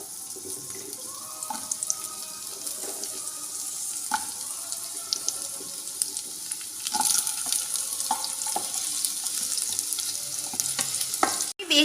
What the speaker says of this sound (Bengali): এই তেলে আমি প্রথমে আলুগুলো ভেজে নেব।